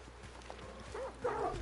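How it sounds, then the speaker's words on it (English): Dogs barking in the multiplayer shooter Hunt: Showdown, a few short barks and yips rising near the end over a steady game-ambience bed. "Dogs, shut your mouth."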